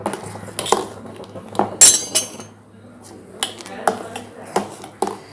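A spoon stirring almond paste into boiling milk in a metal pot, scraping and clinking against the sides in irregular bursts over a quiet, steady background.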